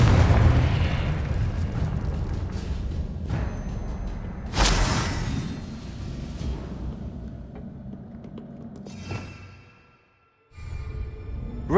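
Confringo blasting spell in Hogwarts Legacy, heard as several booming explosions spread across the span, loud bursts with rumbling tails and a brief drop to near silence before a final blast.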